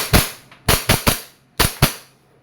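An E&C airsoft Glock 19X Gen 5 pistol fires six sharp, snappy shots close by, in uneven pairs and singles spread across a couple of seconds, with quiet gaps between them.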